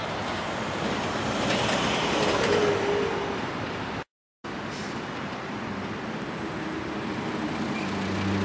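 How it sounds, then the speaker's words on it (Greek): A train rumbles steadily past nearby for several seconds outdoors in Italy, a broad continuous roar with a brief cut in the middle, no talk over it. "Τρένο."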